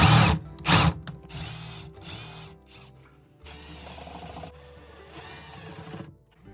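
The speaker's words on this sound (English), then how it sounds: "So now we're going to drill with a countersink bit." A drill with a countersink bit bores into a wooden drawer in several short bursts of whirring and grinding, with clicks and handling noises between runs and a longer drilling stretch toward the end.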